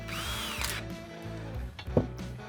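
A power drill with a 9/32-inch bit bores a hole during a car audio wiring install, a close whirring motor run with a short rising spin-up and a brief loud burst near the end.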